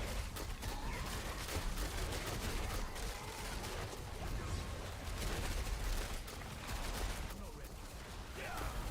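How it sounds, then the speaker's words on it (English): Dense, continuous bursts of explosions and gunfire-like blasts from a Diablo 4 battle fill the full length, loud and chaotic with no pauses, while a voice speaks faintly underneath. "I wonder if it was the explosions on the ground."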